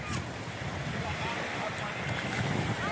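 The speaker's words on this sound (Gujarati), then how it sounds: "દરિયાના હિલોરિયા ચાલુ થઈ ગયા છે।" Sea waves washing in at Mandvi beach, a steady broad rush of surf and wind noise filling the whole stretch without clear breaks, heard close to the microphone.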